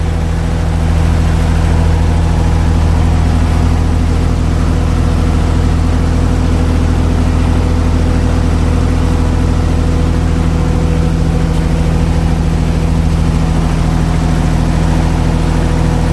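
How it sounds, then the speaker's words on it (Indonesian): A Perkins 27 kVA diesel generator idles steadily at close range, a constant low droning hum with firm harmonic tones that holds without change throughout, with no voices over it. "Running dulu mas, gensetnya mas."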